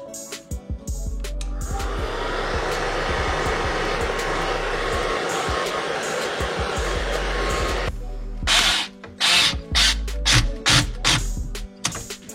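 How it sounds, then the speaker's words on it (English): A blow dryer roars steadily for several seconds while heating a dishwasher drain hose, then cuts off, followed by a series of short, sharp bursts of the same airflow switching on and off. "I'm actually going to heat it with a blow dryer."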